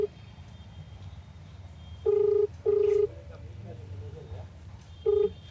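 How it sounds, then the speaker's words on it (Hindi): A phone call is dialed and rings out, with steady electronic ringback tones sounding in short repeated bursts over a low background hum, no one speaking. "दोबारा कॉल मिला लेते हैं"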